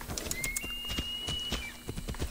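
In the video game Assassin's Creed Odyssey, a horse's hooves clip-clop in a quick steady rhythm close by, with a faint bird call overhead and no talking.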